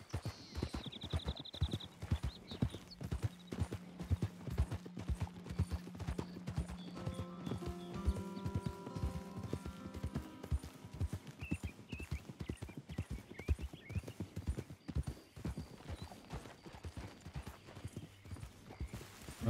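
Horse hooves clip-clopping at a steady walking rhythm in Red Dead Redemption 2, close and continuous over game ambience, with a soft whinny and faint music-like tones in the middle.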